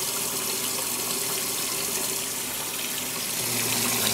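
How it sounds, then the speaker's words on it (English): Water runs steadily from a tap while an RV's plumbing is brought back into service after winter, a continuous close hiss of flowing water with no talk. "See the water flowing over there."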